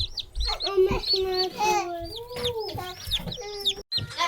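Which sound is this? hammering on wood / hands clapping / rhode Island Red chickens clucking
rhode Island Red chickens clucking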